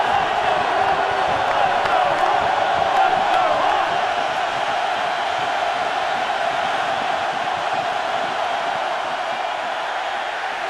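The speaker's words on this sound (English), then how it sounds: "And now this sellout crowd trying to make life miserable for their neighbors from Wisconsin." A sellout stadium crowd roars at a 2010 Iowa versus Wisconsin Big Ten college football game, making a loud, sustained wash of distant cheering and shouting that barely varies in level.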